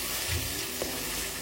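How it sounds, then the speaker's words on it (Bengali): Spice paste of ginger, fennel and cumin frying in a pan for biryani, a dense continuous sizzle with a soft stir or scrape near the middle of the short stretch. "মশলা এখানে কষাচ্ছি"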